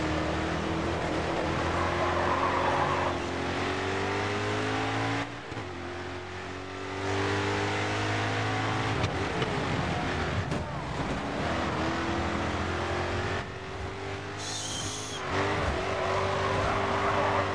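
A Dodge race car's engine in Grid 2 revs and drones steadily through a city circuit, rising and falling with gear changes and occasional tire squeal, loud and continuous with brief dips in volume.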